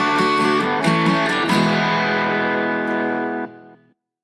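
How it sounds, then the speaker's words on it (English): A podcast's halfway-point reminder sound effect: a sustained, distorted electronic tone with a few pulsing accents, ringing for about three seconds before cutting off and fading into silence. "that sound is your halfway point reminder"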